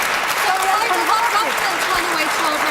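A studio audience at a political debate programme applauds in a steady, dense burst of clapping, loud and close, while a voice speaks faintly over the applause.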